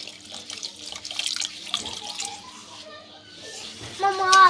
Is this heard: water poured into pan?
yes